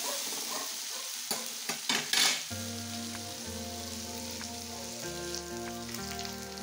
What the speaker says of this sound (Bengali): পেঁয়াজটা একটু ব্রাউন করে ভেজে নেব।